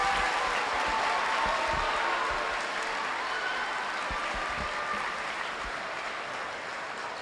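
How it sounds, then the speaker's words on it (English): A crowd claps steadily in sustained, dense applause that fades slightly toward the end. "let's give each other a big round of applause for that."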